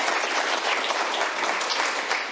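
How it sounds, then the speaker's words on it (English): An audience at an executive awards summit applauds Best Executive Award winners, a dense, steady roar of many hands clapping throughout, loud and unbroken with no talking. "A big round of applause for them and for all of our Best Executive Award winners this year."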